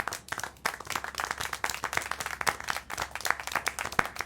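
Clapping from a character in the video game Syberia: The World Before, sharp separate claps in an uneven rhythm with a slight room echo, close and clear, heard alone without talk.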